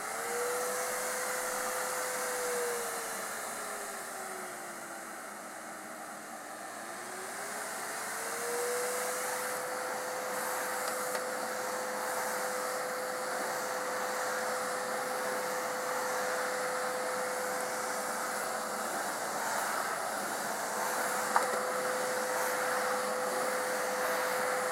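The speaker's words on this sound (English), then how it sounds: "Up next is my Kenmore Magic Blue Vacuum." A Kenmore Magic Blue vacuum cleaner runs steadily on its own, a continuous motor whine that dips in pitch for a few seconds and then holds even, with a small click near the end.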